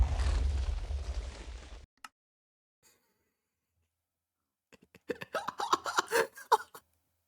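A Minecraft orbital strike cannon detonates in a loud, dense roar lasting nearly two seconds, then cuts to silence before scattered bursts of laughter-like voice sounds follow.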